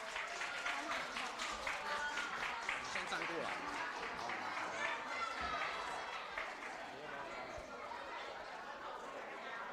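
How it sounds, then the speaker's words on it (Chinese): Applause from a church congregation at a Christmas lunch gathering, welcoming a seniors' fellowship performance: sustained, dense clapping that stays loud for the full stretch and eases slightly near the end, with crowd chatter mixed in. "掌声！"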